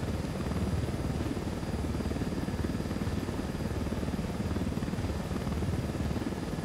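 A stolen aircraft in the Ghost Recon Wildlands game drones steadily as it takes off, a constant loud, rumbling engine roar with a thumping rotor-like pulse throughout.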